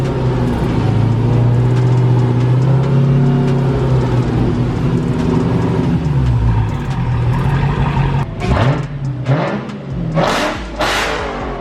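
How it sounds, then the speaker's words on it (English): Supercharged Dodge Challenger Hellcat engine revving continuously, loud and close, with a deep sustained roar that swells and dips, followed by sharper throttle blips near the end. "it's revving right now"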